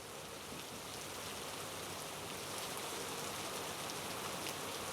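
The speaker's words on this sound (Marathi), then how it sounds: "सध्या रिमझिम पाऊस सुरू आहे" Steady light rain falling in Navi Mumbai, a dense even patter of drops with no pauses, moderately loud and continuous throughout.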